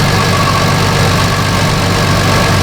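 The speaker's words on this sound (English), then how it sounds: "I just wanted to let it warm up. I want to get our idle down here a little bit." A 2005 Chevrolet Equinox 3.4 V6, running rich, idles steadily and loudly up close, a constant low rumble with even vibration and no other sounds over it.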